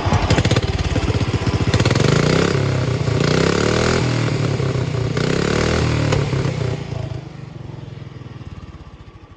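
A small mud mower engine cranks, catches and runs loudly with a rough, chugging idle and a few revs, then gradually quiets near the end.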